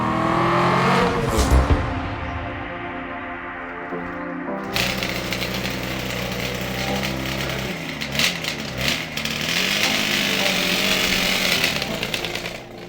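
Suzuki motorcycle warming up trackside at Cadwell Park, its engine blipping and rasping loudly, then holding a gritty, buzzing idle punctuated by short revs.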